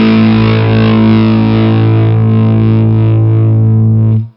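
Electric guitar through a Mesa Boogie California Tweed amp set for overdrive rings out a thick, loud, sustained distorted note or chord that holds for about four seconds and then cuts off, with no talking.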